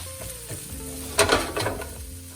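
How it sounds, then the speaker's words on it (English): Onions and peppers sizzle in a pan while being stirred for shakshuka, a steady frying hiss with a louder burst of scraping and sizzle midway, close up and with no talk. "give those a stir until they become softened"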